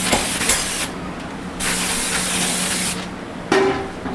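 Cup spray gun spraying clear coat with a little color, a loud close hiss of atomized spray in long bursts separated by short pauses as the trigger is released.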